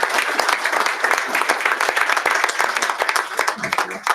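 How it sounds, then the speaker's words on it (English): A symposium audience gives a sustained round of applause, dense overlapping claps filling the room steadily and fairly loud for several seconds, with no voices standing out. "I encourage everyone to give him a big round of applause."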